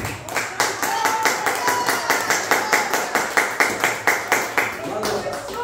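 A pastor clapping his hands in a church service, a steady run of sharp, loud, evenly spaced claps close by, with a voice speaking over the clapping.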